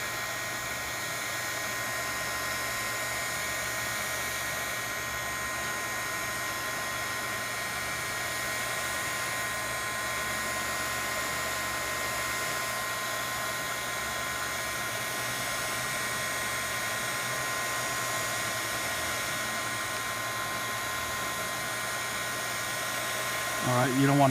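A heat gun whirs at a constant pitch while it warms the glue under the screen of a 7th-generation iPod Nano, a steady, fairly quiet drone that runs alone and unbroken.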